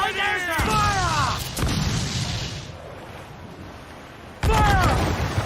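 Ship cannons booming in Assassin's Creed 4 Black Flag naval combat, a heavy blast at the start, another around a second and a half later, and a third near the end, over a steady roar of sea and battle with shouting crew voices between.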